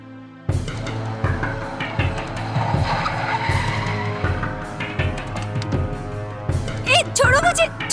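Car tires squeal and skid in a Hindi-dubbed South Indian love story film scene, a loud sustained screech with engine roar, followed by sharper squeals near the end amid dramatic shouting.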